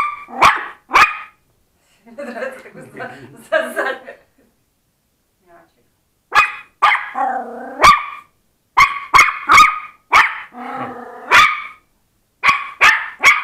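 A Yorkshire terrier and a chihuahua bark loudly and close up, firing sharp single yaps and quick clusters between brief pauses, with some growly, whiny vocalizing mixed in.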